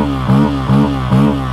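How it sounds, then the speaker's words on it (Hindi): A Bajaj Pulsar N160 motorcycle idles with a steady low exhaust note, blipped three times at an even pace so the revs rise briefly and settle back each time, close and fairly loud, with no talking. "एग्जॉस्ट नोट मैं आपको और एक बार सुना देता हूँ"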